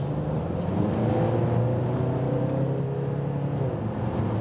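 A VW Golf 8 Alltrack TDI diesel estate in sports mode pulls from 70 to 100 km/h, its engine note a steady low drone that climbs gradually in pitch under a constant road and wind roar.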